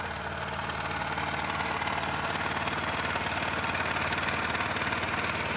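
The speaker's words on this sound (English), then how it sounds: "As you can see, the generator is running smoothly." A petrol generator runs smoothly at a steady idle, close and loud, its engine throbbing in an even rapid rhythm with no pauses.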